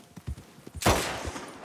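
A single loud gunshot fired into the air in Red Dead Redemption 2 cracks out sharply, followed by a lingering rumbling tail, with faint footsteps or movement before it.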